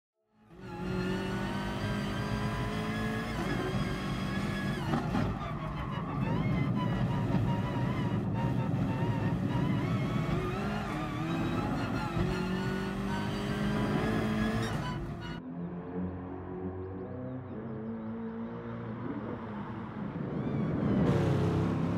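A race car roars hard through the Nürburgring Nordschleife carousel in GT Sport, its engine loud and sustained with high tire noise, then an abrupt drop in pitch and a fresh rise as the car accelerates out.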